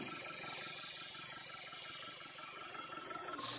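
A car engine idling with the turbocharger intake open, a steady low rumble under a thin, high whine from the spinning compressor wheel, ending in a sudden burst of louder noise.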